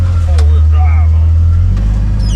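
A truck engine droning steadily and loudly in four-wheel drive while driving through snow on a Louisiana blizzard hunt, a deep constant rumble up close, with people talking over it.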